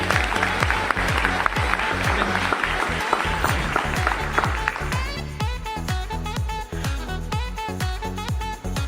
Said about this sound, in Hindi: आप सभी के सीनियर्स के लिए एक जोरदार ताली होनी चाहिए।